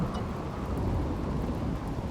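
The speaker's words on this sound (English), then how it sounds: "Well, it is raining, so we might be okay here" Rain and low rumbling thunder in a colony-building video game form a steady, even wash of noise with a deep rolling undertone, heard alone without talk.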